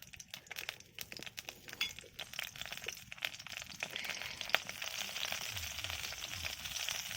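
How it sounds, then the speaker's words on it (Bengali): Khesari lentil dumplings (bori) frying in a little oil in a wok give a faint, continuous crackle and sizzle with scattered small pops, growing denser and steadier over the last few seconds. "তেল দিয়ে এবারে আমি ডালের বড়ি, খেসের ডালের বড়িগুলোকে ভেজে নেব।"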